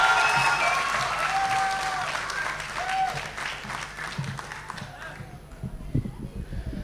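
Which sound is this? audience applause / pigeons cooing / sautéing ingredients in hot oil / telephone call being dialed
audience applause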